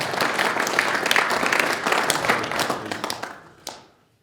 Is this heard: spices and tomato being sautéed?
no